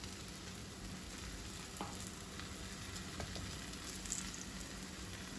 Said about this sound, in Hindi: तवे पे पहले हल्का सा हम ऑयल लगा देंगे और पराठा उसके ऊपर आराम से डालेंगे